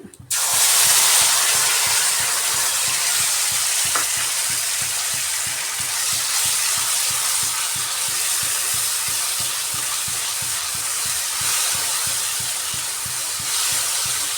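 Ground turmeric, cumin, coriander and red chilli hit hot oil with fried cauliflower and sizzle loudly and steadily up close, a dense continuous crackle after a brief quiet start, with no talking.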